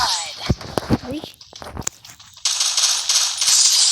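Gunfire in a shooting video game, heard as several sharp, separate shots over a voice early on, then giving way to a loud, steady hissing rush of game noise.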